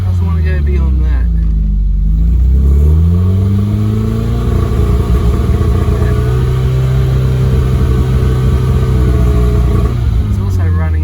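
A 1977 Porsche 924 engine, running rich and unrepaired, revs up, holds at a steady high drone and strains without climbing further, loud and close throughout.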